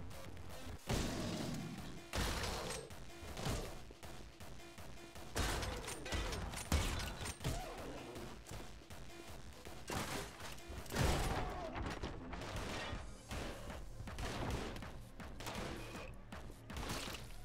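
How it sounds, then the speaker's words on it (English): Explosions and gunfire in the video game Anger Foot come as loud, dense bursts of crashing blasts and impacts, stacked in rapid, irregular clusters throughout with only short lulls. "The explosions are crazy."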